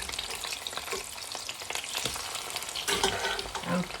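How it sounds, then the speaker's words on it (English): Chicken gizzards sizzle and fry in a pan for a stew, a steady crackling hiss with occasional stirring scrapes, close and continuous with no talking. "I'll finish frying the gizzard."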